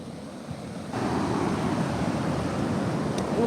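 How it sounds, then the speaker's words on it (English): Ocean surf washes onto a rocky shore in a loud, broad rush that swells after a quieter moment, with wind buffeting the microphone. "Just watch the waves, make sure you don't get wet."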